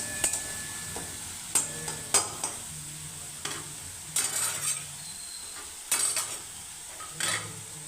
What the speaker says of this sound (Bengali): আর দিচ্ছি জিরের গুঁড়ো মশলাটাকে ভালো করে কষিয়ে নিচ্ছি